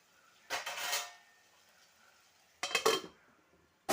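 Spatula scraping and clattering against a pan while stirring a potato fry, two short bursts of metallic stirring separated by near silence, close and fairly quiet.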